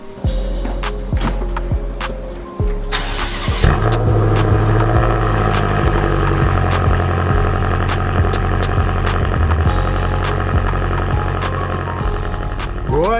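A BMW M5 engine idles with a low steady rumble, after a few clicks and a revving start; the hum continues evenly throughout.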